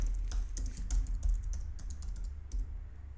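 A short burst of typing on a computer keyboard: quick, irregular key clicks close by, a dozen or so taps in uneven rhythm with no talking.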